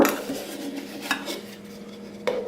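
A GSI camping bowl and cup set being packed into a metal pot, with light clinks and clatters of nesting cookware, a sharp knock near the middle and another near the end, close by and with no voices.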